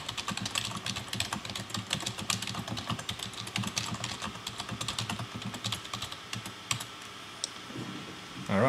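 Steady typing on a computer keyboard, a close, busy run of key clicks that slows and thins out toward the end, with no one talking.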